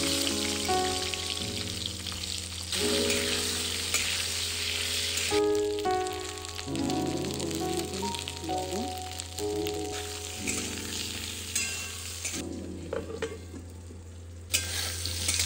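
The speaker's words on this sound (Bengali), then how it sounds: "তেলের মধ্যে ফোড়নে দিয়ে দেবো কালো জিরে, দিলাম বেগুন আর কাঁচা" Eggplant frying in oil with black cumin and green chilies, a loud, dense sizzle with bursts of stirring and spattering throughout, no talk.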